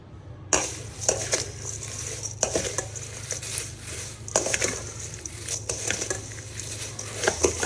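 A spoon stirs fried poha mixture with flax seeds and almonds in a pan, giving repeated scraping clatters of metal over a faint continuous sizzle, close and fairly quiet.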